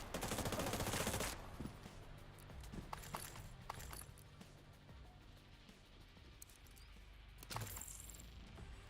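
Video game gunfire, a loud burst of rapid shots at the start followed by quieter scattered mechanical clicks and clatter, with another short burst of fire near the end.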